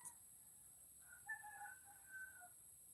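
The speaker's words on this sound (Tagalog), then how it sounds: "Chickens only." On a coconut farm, a rooster gives a faint, brief crow among soft chicken calls, heard at a distance over quiet background hiss.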